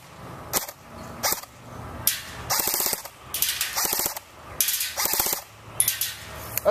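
Airsoft gun firing full auto in several rapid bursts, each a sharp mechanical rattle of fast repeated shots, separated by short pauses and nearby handling noise.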